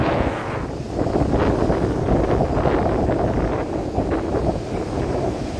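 Strong wind roars across the microphone at KKS beach in Jaffna while waves crash in a steady, dense rumble, loud and unbroken throughout.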